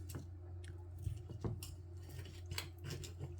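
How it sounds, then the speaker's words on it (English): Knife slicing through air-fried tinned roast potatoes, a few soft crunchy cuts with faint cutlery clinks against a plate, close and quiet over a low steady hum. "let's cut into them right now, so we can see if they're actually cooked on the inside."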